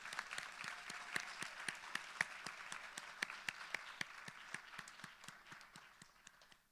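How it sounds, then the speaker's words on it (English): A round of audience applause at a school National Honor Society induction ceremony, steady dense clapping with sharp individual claps standing out, moderately distant in a hall and tapering slightly toward the end. "Please join me in thanking them with a round of applause."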